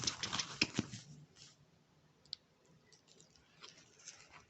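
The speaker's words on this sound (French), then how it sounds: "Alors, on va tout de suite déballer la toile." A diamond painting canvas from an AliExpress order being unwrapped by hand, a burst of crisp plastic crinkling and rustling at first, then sparse soft crackles and clicks, close and quiet.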